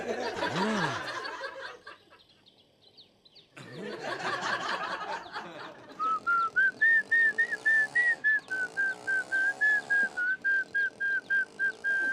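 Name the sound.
person whistling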